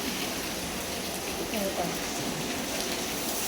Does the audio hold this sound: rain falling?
yes